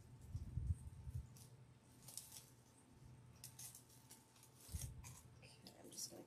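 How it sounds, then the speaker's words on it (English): Scissors snip off pieces of ribbon for a sunflower gnome sign kit in a series of quiet, close cuts and rustles, with soft low handling noise and faint talk in the background. "Okay, I'm just going to cut these off."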